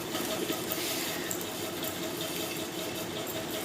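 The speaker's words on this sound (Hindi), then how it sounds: "घर पंखा चलत पंखा के आवाज आत हुई बहुत ज़्यादा खटरे आवाज" A household ceiling fan runs with a heavy, loud rattling clatter, a steady unbroken mechanical noise that holds at the same level throughout.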